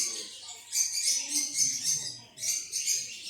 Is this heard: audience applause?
no